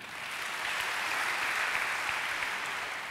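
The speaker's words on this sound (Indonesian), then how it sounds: "Yang setuju tepuk tangan bagi Dia." Sustained applause from a church congregation during a sermon, a dense steady wash of clapping that swells in and holds at full volume throughout.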